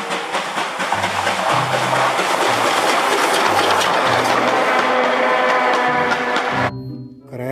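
A toy Thomas train plays a busy, continuous mechanical clatter with a repeating low pulsing rhythm, steady and close, and then cuts off abruptly near the end.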